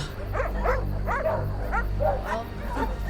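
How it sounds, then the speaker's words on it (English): Several dogs in a pack bark and yip repeatedly at close range in a rural Ozarks setting, overlapping bursts over a low rumbling background hum. "And there was a pack of dogs."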